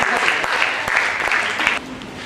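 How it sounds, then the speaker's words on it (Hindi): Audience at a Mother's Day celebration gives a burst of loud, brisk clapping that stops abruptly near the end. "बहुत जोरदार तालियां होनी चाहिए।"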